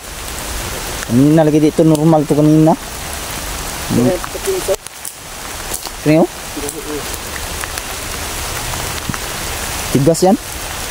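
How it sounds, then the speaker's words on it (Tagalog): Steady heavy rain hisses throughout on a mountain, with a person speaking in short bursts over the downpour. "Lumakas ang ulan mga boss."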